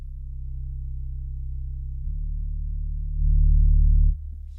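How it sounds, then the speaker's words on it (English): Synthesized sine wave tone playing chord notes with no reverb, low and pure, stepping to a new pitch partway through, then swelling louder before cutting back near the end. "a sine wave is really good for this"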